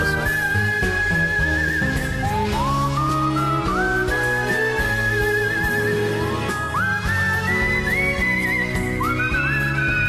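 Whistle-like melodic lines in Disgaea 3 game music, gliding and sliding high over a steady backing of instruments, played continuously and prominently.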